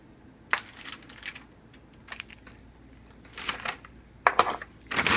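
Charred roasted peppers drop into a paper bag, giving a few scattered crinkling rustles and soft thuds at irregular intervals against a quiet kitchen background.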